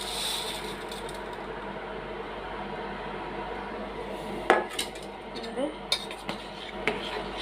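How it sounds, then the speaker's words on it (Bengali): Sugar being stirred into milk with pithas in a cooking pot, a few scattered utensil clinks and scrapes against the pot over a steady low background hum. "নেড়ে দেবো অল্প, যাতে পিঠাগুলোর মধ্যে চিনিটা হয়ে ঢুকে গলে যায়"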